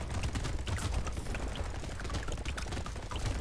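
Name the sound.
explosion turret firing in the video game Brotato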